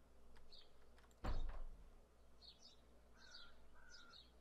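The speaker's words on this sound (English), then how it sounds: "The birds are chirping, the sun is shining." Bird calls inside a video game world: a handful of short, high chirps in separated bursts over a quiet ambient bed, interrupted by one loud thudding knock or door-like bang partway through.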